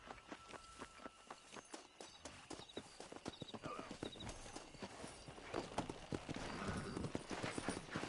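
Horse hooves clip-clop steadily while riding in Red Dead Redemption, a quick rhythmic gallop that grows slightly louder and faster toward the end, with faint ambient sound beneath.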